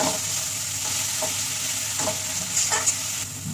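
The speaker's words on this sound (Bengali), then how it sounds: "একটা টমেটো দিয়ে আবারও কষাবো" Tomato sautéing with spices and turmeric in a wok, a constant close sizzle with a few scraping spatula strokes spaced through it.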